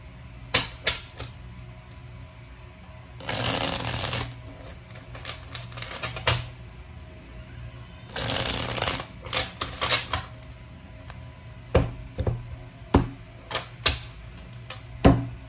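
Tarot cards shuffled in two brisk bursts of riffling, with scattered sharp taps and clicks of cards set down in between, close and fairly quiet.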